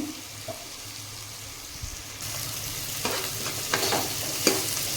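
Onions fry and are stirred in a pan for a diabetic-friendly upma, a soft sizzle that grows louder after a couple of seconds, broken by scraping spatula strokes near the end, with no talk.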